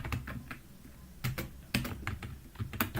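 Rapid clicking keystrokes on a computer keyboard while code is typed to solve a coding problem, coming in uneven bursts with short pauses and a few heavier key strikes, close and clear.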